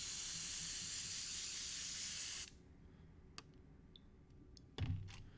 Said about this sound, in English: I'm just going to kind of spray out that leftover paint